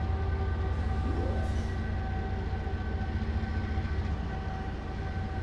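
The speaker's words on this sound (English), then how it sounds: "Alright, we got our train up to speed" A freight train at speed in a Trainz rail simulation on the Utah Belt Provo River Sub rumbles steadily and loudly, with a continuous low drone and a brief rising tone near the start.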